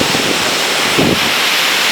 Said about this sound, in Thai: หมู่บ้านเสียงดังนะเพราะว่าเป็นน้ำตกด้วยนะครับ